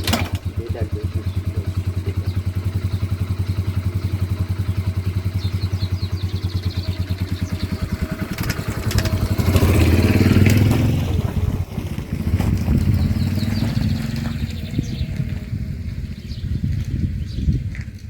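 A Yamaha motorcycle engine idles with a steady low rumble, then revs louder and rougher midway before settling back to a throbbing idle, with voices talking over it.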